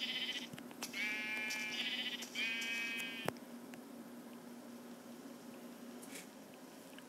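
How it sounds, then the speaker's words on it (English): A Minecraft sheep bleats twice in quick succession, clear and fairly soft, over a low steady game hum, followed by near silence with faint clicks. "Here's another sheep, okay."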